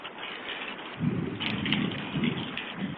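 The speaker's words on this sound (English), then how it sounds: "Here's a video of a hard downpour during a hot afternoon." A heavy afternoon downpour roars steadily, the rain thickening after the first second into a dense, constant wash with low rumbling underneath.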